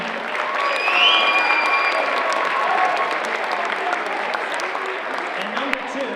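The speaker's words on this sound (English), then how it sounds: "Give yourselves a round of applause" An audience at a high school fall sports awards night claps in a steady, dense round of applause that holds at an even level from start to finish, with faint voices mixed in beneath it.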